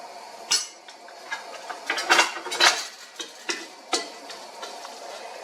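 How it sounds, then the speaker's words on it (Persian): Metal spoon clinks and scrapes against a cooking pot in a quick irregular series as sugar is added, fairly close, with faint sizzling underneath and no talking. "در دیگ اول یک قاشق بوره را مندازیم"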